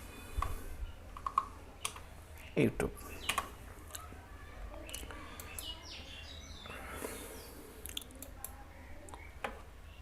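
Keys clatter on a computer keyboard as a search is typed, a few scattered taps and a short burst of clicks, faint and close, with quiet background sounds and no talk.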